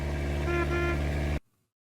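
A random red car in The Stanley Parable video game gives a steady, sustained horn blare over a droning engine, then cuts off abruptly into silence.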